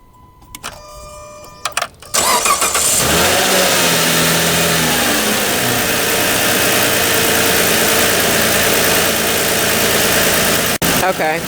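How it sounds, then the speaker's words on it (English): A car engine cranks and catches after a few clicks, then roars into sustained loud revving that holds steady until a brief cut near the end. "Or to start the car."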